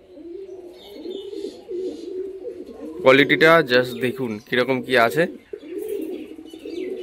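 Adult pigeons, a male and female pair of a long-flying breed, coo softly beneath someone talking throughout, with a louder cluster of calls midway.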